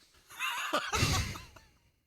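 A horse whinny sound effect played on a morning radio show rises into a bright, wavering neigh lasting about a second, with shaky breathy edges as it fades, heard alone without talk over it.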